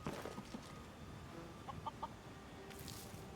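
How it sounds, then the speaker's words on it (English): Chickens in the video game Skyrim, with a few short clucks and chirpy calls near a smithy, sitting over a steady ambient game background. "Chickens."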